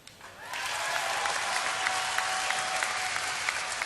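A large convention-hall audience at a Diablo 3 Q&A at BlizzCon 2010 breaks into sustained, dense applause that starts suddenly and holds steady, loud and continuous.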